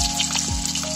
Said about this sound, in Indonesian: tumis aja ya bumbunya.